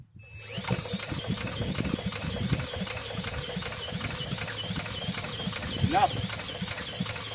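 Toro 18005 lawn mower engine with no muffler being cranked, a rough, rapid mechanical chugging and whirring that starts abruptly and keeps going for several seconds, close and moderately loud with a brief voice near the end.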